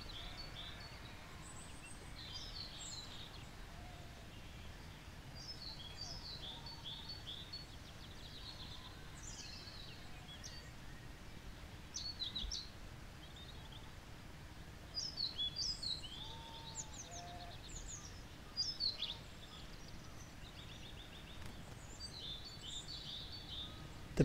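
Curlews call near a nest site, with a few brief chirping and whistling bursts over a faint, steady outdoor background. Calls come in short clusters, fairly distant and quiet.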